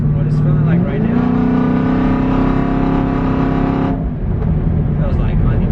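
A 2017 Chevrolet Camaro 2SS with a full exhaust accelerates hard from inside the car, its V8 roar climbing in pitch for a few seconds, then dropping sharply as the driver lifts off and the engine settles back to a loud, rumbling cruise.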